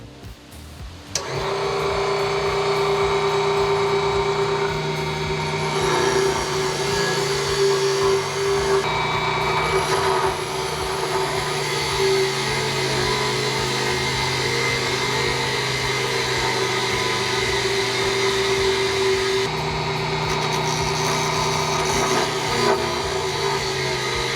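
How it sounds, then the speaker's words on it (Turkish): A Raitool T4 mini power tool drills steadily and loudly for a long stretch after starting up, its high-pitched motor tone shifting slightly as it bites. "Şimdi diğer uç ile delmeye çalışacağım."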